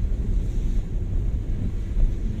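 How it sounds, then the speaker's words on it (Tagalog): Ocean waves pounding a boulder-strewn shore at Ampere Boulevard in Aurora Province make a deep, continuous roar of surf, heavy with wind buffeting the microphone, steady and close with no talking. "Ampak ng alon!"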